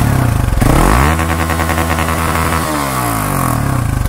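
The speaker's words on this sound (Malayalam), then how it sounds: "അപ്പോൾ ഇത്രയൊക്കെയാണ് നമ്മുടെ എക്സോസ്റ്റ് നോട്ട്." A Hero XPulse 4V motorcycle revs loudly up close, the exhaust note climbing and holding at high revs, then dropping back to a throbbing idle, with no voices.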